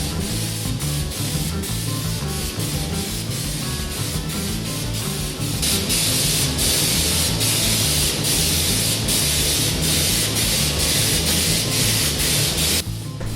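Spray gun applying Raptor bed liner to a 4WD, a loud, continuous hiss with a compressor-like hum beneath, changing slightly in texture partway as the passes shift, with no talk.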